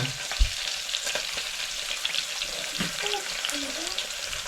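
Curry leaves and green chillies fry in a pan for a bamboo shoot curry, giving a quiet close crackling sizzle with a few stirring knocks and no voices.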